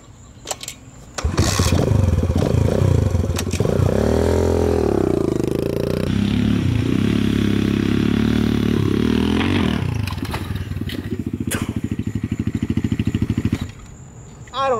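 A dirt bike engine starts with a sharp kick, then roars loudly and steadily, swelling and falling as it revs. It settles into a rougher, pulsing idle before cutting off, close to the listener.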